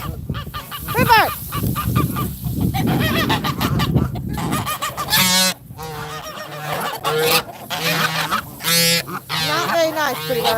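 A pet goose honks repeatedly, loud and close, with other fowl calling around it and a person speaking at times between the honks.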